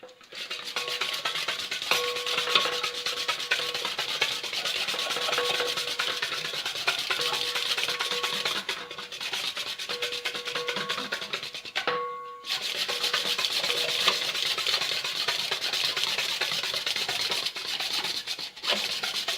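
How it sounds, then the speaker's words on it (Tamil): Continuous scraping and rubbing of a utensil stirring cake batter with curd and egg for banana cake in a bowl, rhythmic and close, with brief pauses. "இதெல்லாம் சேர்ந்து நல்லா மிக்ஸ் பண்ணிடலாம்"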